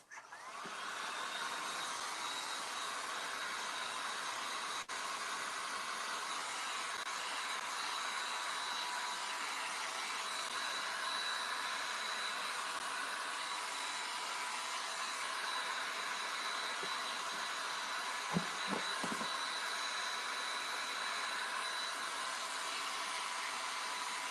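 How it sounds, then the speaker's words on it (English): A hair dryer runs steadily and loudly throughout, blowing on freshly applied milk paint gesso on a flat surface, with a brief faint clatter near the end. "forgive the dryer"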